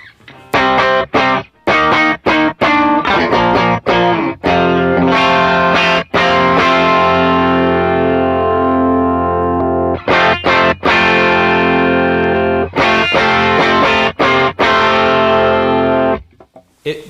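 Electric guitar runs through an aggressive effects pedal with a high wet mix, thick distorted and chorused chords ringing loudly with short gaps between strums.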